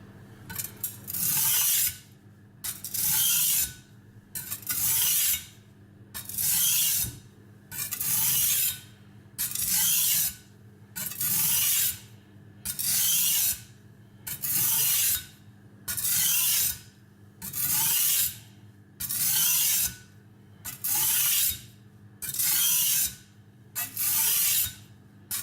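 Knife blade drawn back and forth across a Spyderco medium sharpening stone under moderate pressure, making a steady series of about fifteen rhythmic, close gritty rasping strokes separated by short pauses.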